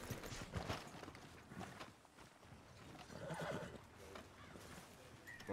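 A horse being ridden in Red Dead Redemption 2 near the town of Valentine: a faint whinny and soft clip-clop of hooves, quiet and slightly distant.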